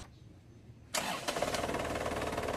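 After a moment of quiet, an Isuzu Crosswind engine cranks and catches with a sudden burst, then settles into a rough, steady idle close by.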